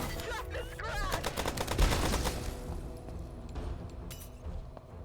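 Gunfire rattles in the sci-fi shooter Rocket Squad Infinity, with rapid bursts of shots and impacts over game effects, loud and close.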